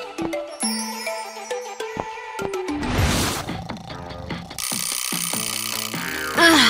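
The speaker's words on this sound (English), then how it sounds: "Ugh, I hate that alarm clock. Maybe I can just ignore it. Nope! I can still hear it!" A cartoon alarm clock rings loudly and insistently against bright musical stings and sound effects, with a sharp burst of noise partway through.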